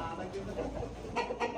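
Chickens seized in a police raid on a cockfighting den in Ciamis, West Java, clucking and squawking in short bursts close by, mixed with background voices and noise.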